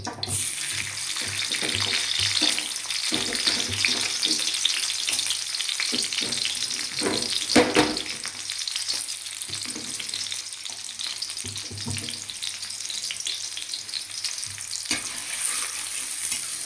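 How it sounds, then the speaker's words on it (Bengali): Chopped onions fry in oil left from capsicum in a pan, giving a loud, continuous sizzle with scattered clatters of stirring throughout. "এবার পেঁয়াজ কুচিগুলো এর মধ্যে দিয়ে দেবো।"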